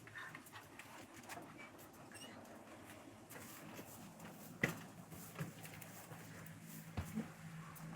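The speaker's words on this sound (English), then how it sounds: "Oh, puppy dog." A puppy panting softly in a home, quick faint breaths over a low background hum, with a couple of brief louder bumps.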